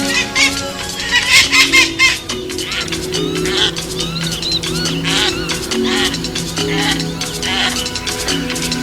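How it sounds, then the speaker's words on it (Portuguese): A pair of spur-winged geese call with a series of loud, nasal honks and squawks close by, repeated in quick bursts over a steady low background hum as the birds set off at dusk toward night feeding grounds. "um casal de gansos de esporão na asa, que esteve passeando o dia todo, parte para os sítios noturnos de alimentação"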